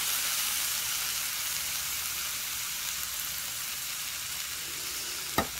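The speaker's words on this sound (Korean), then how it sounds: "맛있게 익는 소리 좀 보소" Marinated Korean jumulleok meat sizzling on a hot grill plate, a steady close hiss of frying fat running throughout without talk, with one short sharp crackle near the end.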